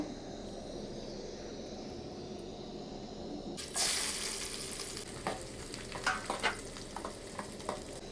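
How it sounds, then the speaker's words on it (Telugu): Quiet background murmur, then a sudden loud sizzle as tempering spices hit hot oil, crackling and spitting unevenly before settling into a steady fry. "ఇప్పుడు తాలింపు అయితే వేసేద్దాము"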